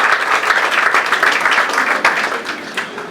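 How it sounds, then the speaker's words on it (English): Audience applauding at a fashion academy induction ceremony, a dense, steady wash of many hands clapping at once, loud and close, with no talk over it. "please give yourself a round of applause."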